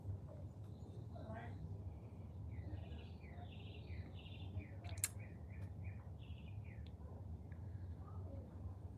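Several short, high chirps and twittering notes from a bird over a low steady rumble, moderately faint and irregularly spaced.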